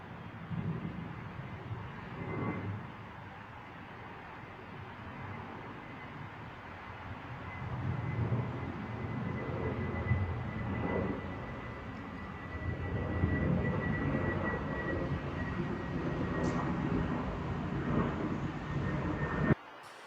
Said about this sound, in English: I wonder if those planes we're hearing are actually the refuelers, like the stratotankers.